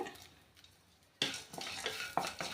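Black pepper, cumin seeds and curry leaves dry-roasting in a pan give a soft sizzle, with a sharp scrape of stirring against the metal and then further light scraping and crackling.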